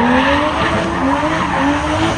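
A turbocharged drift car slides across a professional drift track, its loud engine note rising and falling over sustained tire skid and squeal, steady and close throughout.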